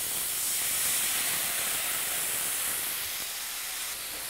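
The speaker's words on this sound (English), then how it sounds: "And we're adding a 1/4 cup of a rustic red French wine." Rustic red French wine poured into a hot pan, giving a steady, loud, close hiss of sizzling that eases slightly toward the end.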